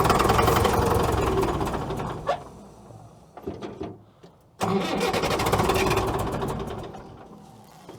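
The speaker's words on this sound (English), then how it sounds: "All right, so the engine does run. You guys heard it fire up there." A Caterpillar loader's diesel engine, dead for over a year, cranks and fires on ether, running loud and rough, sputtering out briefly, then catching again with a heavy, steady mechanical roar.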